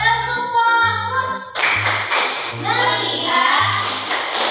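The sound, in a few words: class clapping hands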